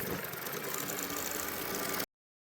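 An electric sewing machine runs steadily while stitching elastic onto an Afghani salwar, a continuous close mechanical whir lasting about two seconds and then cutting off abruptly, with no talk.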